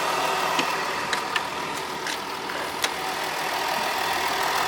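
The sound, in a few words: Ford F-150 3.0 V6 Powerstroke diesel engine idling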